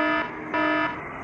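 A regular alarm clock rings in two loud, steady electronic beeps, close and alone, with a brief gap between them.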